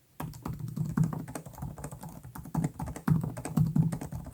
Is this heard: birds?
no